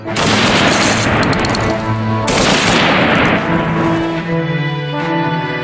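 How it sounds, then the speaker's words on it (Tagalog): A loud, dense burst of gunfire like a firing squad execution, with rapid overlapping shots and booms packed together before trailing off into echoing reverberation, heard alone. "sa araw ding iyon ng Agosto 31 ay binaril ang 57 katipunerong nahuli sa Polvorin"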